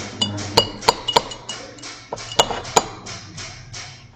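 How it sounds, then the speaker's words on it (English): Berries being muddled with a spoon in a cup, giving a series of clinking, tapping knocks of the spoon against the cup at an irregular pace, close and fairly loud. "I believe it's called muddling."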